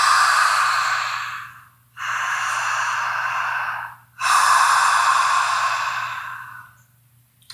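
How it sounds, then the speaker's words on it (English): Three long, loud breaths drawn and pushed through a tightened back of the throat, ocean-like breathing practised during a throat chakra exercise; each breath is close, steady and hissing, a few seconds long, with short pauses between and no talking. "creating that sound by constricting the back of your throat"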